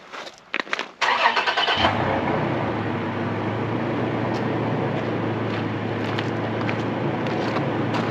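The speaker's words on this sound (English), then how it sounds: "what we're going to do is go start the vehicle up" A truck engine is cranked and starts after a few clicks, then settles into a steady, close idle hum that continues alone to the end.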